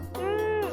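A single drawn-out cat meow that rises and falls in pitch over a low steady hum, fairly close and clear.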